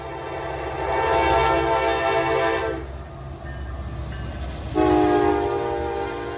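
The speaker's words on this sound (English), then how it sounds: "The train appeared to be going 60 miles an hour" Norfolk Southern 1069 Virginian heritage locomotive roars past at around 60 mph near a rural co-op in Homer, Illinois, its horn blasting loudly twice over the steady rumble of the train, the second blast following a short gap.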